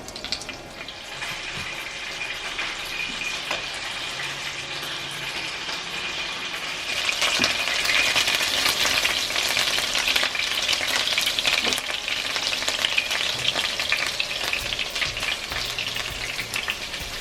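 Ingredients for shrimp linguine sizzle in a hot pan while being stirred, a continuous crackling hiss with scraping, growing louder and denser partway through, with no talk.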